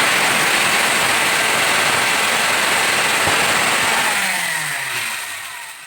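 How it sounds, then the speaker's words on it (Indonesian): Power sander runs steadily on a wooden horse bow during finishing, a loud, close, continuous buzzing whir that tapers off near the end. "Ini, setelah seperti ini kembali diulangi dengan amplas mesin."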